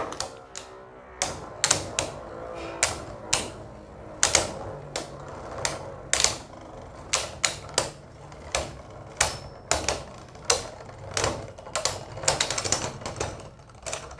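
Astral Spriggan and Belial Beyblades spin and battle in a stadium after launch, producing rapid, irregular sharp clacks and clicks of metal and plastic colliding over a steady whirring hum.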